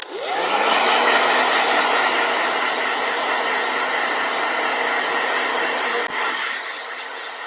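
A hair blow dryer roars steadily at close range, starting with a quick rise to full power and holding a loud, even whoosh throughout.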